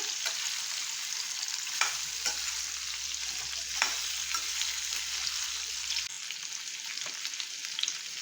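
Indian gooseberries (amla) sautéing in a pan, a steady close sizzle running throughout with a few sharp scrapes and knocks from stirring.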